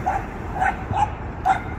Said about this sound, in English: Today, I am at a dog park.